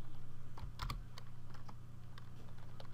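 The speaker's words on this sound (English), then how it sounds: "I'm going to press tab on the keyboard to nest the title" Keystrokes on a computer keyboard while HTML is typed into a head tag, a few soft separate clicks in a quiet room over a low steady hum, with a small cluster near the start and lighter taps after.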